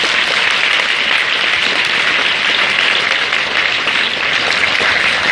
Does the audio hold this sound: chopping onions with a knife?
no